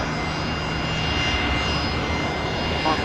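Airliner jet engines roar during takeoff at Brisbane Airport, a loud, dense and continuous rumble that holds steady from start to finish.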